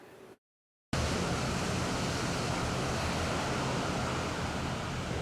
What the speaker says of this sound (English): surfers still riding those dangerous waves in Carmel